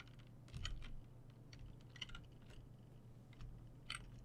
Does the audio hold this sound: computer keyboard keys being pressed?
yes